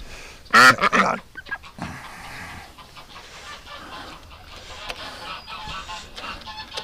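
Geese honk loudly at close range, a burst of harsh overlapping calls near the start, followed by scattered quieter honks and clucking fowl noises amid outdoor bustle.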